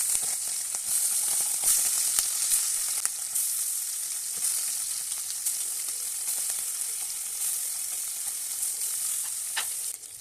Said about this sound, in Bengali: মাছগুলিকে এখন আমি ভেজে নিব।